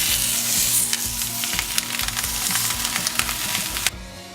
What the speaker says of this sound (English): Saute the skin until crispy and golden brown, then turn and do the same to the second side.